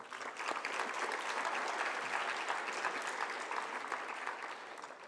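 Audience at a high school senior awards ceremony claps steadily for several seconds, a moderately distant, even wash of applause that tapers slightly at the end.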